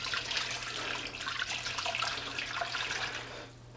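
Water splashes and pours steadily into a smoker pan holding pork being braised for pulled pork, a loud, continuous gurgling stream that tapers off at the end.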